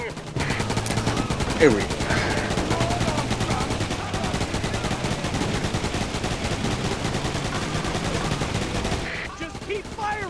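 Sustained rapid gunfire from the video game Roadkill rattles on continuously for about nine seconds, dense and loud, with a voice briefly speaking over it.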